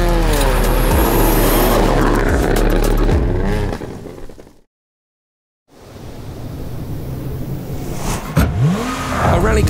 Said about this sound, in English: entirely rethink and redesign all new Subaru WRX rally cars, the beasts they are racing this year